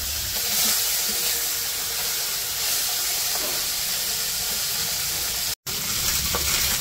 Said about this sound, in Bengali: ওদিকে তো ওই যে চচ্চড়ির মাছ ভাজতে দিচ্ছে কড়াইয়ে